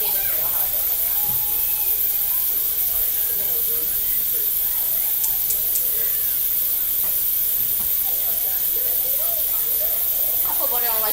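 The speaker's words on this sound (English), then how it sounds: "I'm going to put some butter on the pan." Butter sizzling in a hot pan, a steady bright hiss that runs unbroken and fairly loud, with faint kitchen clatter and a few scattered pops over it.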